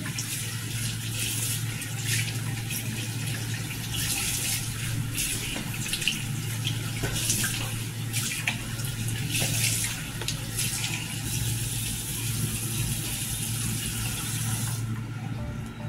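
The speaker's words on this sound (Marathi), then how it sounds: "ओके ओके मी चेहरा वॉश करून घेते" Tap water runs steadily and close as a face is washed, a continuous hiss with soft splashes and no talking.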